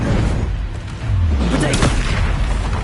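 Spell effects cast in the video game Hogwarts Legacy land as deep, rumbling booms and blasts, one rolling impact after another, filling the short stretch.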